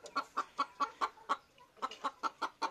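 A sickly hen recovering from avian malaria clucks in a steady series of short, close calls, about a dozen evenly spaced with one brief pause partway through.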